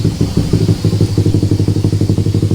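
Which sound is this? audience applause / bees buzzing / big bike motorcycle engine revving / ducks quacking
big bike motorcycle engine revving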